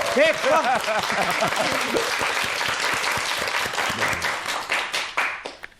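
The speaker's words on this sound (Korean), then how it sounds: "그러면 권영찬 교수의 강의를 박수로 청합니다." A studio audience bursts into applause welcoming a lecturer on a Korean morning talk show, dense sustained clapping with a host's voice over the start, fading out at the end.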